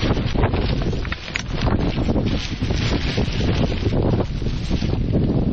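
Strong wind blows outdoors at a campsite in the Lake District, a loud continuous roar buffeting the microphone with rustling gusts throughout.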